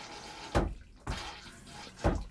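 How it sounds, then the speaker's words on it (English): The toilet in a new 2026 Rockwood Ultra Lite 2618RD travel trailer is flushed during de-winterizing, producing three short, sharp clunks with brief water rushes, each about three-quarters of a second apart, close by. "I'm gonna keep flushing that a bunch."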